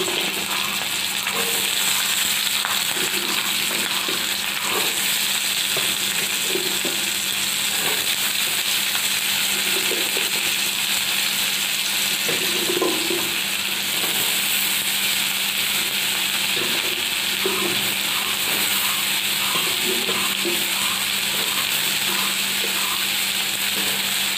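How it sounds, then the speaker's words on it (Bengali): Potatoes added to hot oil with chilli and bay leaf give a steady, dense frying hiss that stays at an even level throughout, close by, with occasional faint bubbling and no voices. "তেলের মধ্যে আমি দিয়ে দিলাম লঙ্কা আর তেজপাতাটা। আর এবার আমি আলুগুলো দিয়ে দেবো।"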